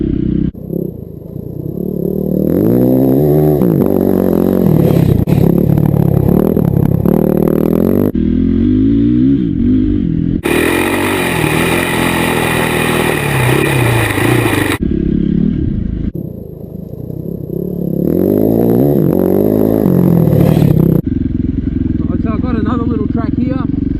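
A motorcycle with a freshly rebuilt top end rides a track section in first and second gear, its engine loud and close with rising revs and gear changes over the full length, joined by some noisy clatter.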